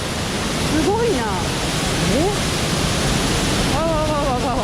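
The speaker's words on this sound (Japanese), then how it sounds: "これね、滝の後ろに入れるんですって。" Standing behind the Nabegadaki waterfall, a loud, dense, unbroken roar of falling water close by, with a person's excited vocal exclamations rising over it at moments.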